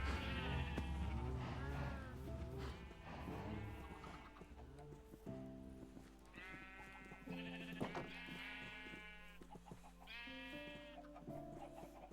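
A flock of sheep being herded into a pen bleats loudly and repeatedly, several overlapping calls near and far forming a near-continuous chorus over a low steady hum.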